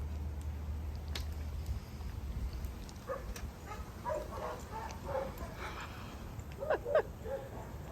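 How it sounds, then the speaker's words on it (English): Faint dogs bark and yip at a distance, in scattered bursts over a soft background hiss. "my dogs are going mental"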